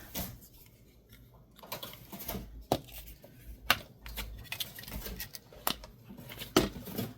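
Paper being trimmed for a junk journal double tag embellishment, with a few sharp, close cutting snips and crisp paper rustles spread over several seconds, no talk.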